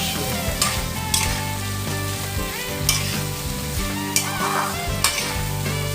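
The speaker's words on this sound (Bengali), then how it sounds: "আমি একটু নেড়ে ভালো করে তেলটার সাথে চাল কুমড়োটাকে মিশিয়ে দেব" Chunks of ash gourd stirred in hot oil, a sharp sizzle broken by repeated scraping strokes of a spatula against the pan at an uneven rhythm, close and fairly loud.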